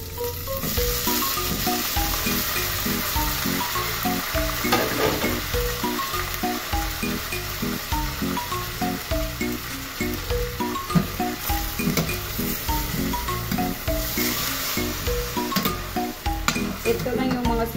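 Chicken sizzles and fries steadily in a hot pan with garlic, onion and lemongrass, with stirring scrapes and clinks throughout and a faint voice now and then.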